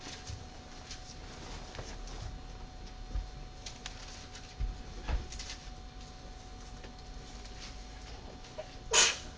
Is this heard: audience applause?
no